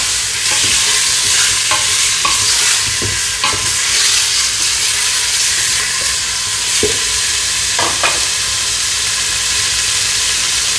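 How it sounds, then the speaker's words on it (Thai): Pork stir-fries in a hot pan with a loud, constant sizzle, the spatula scraping and clacking in a loose rhythm throughout, with no voices. "ผัดให้หมูเซ็ตตัวนะ"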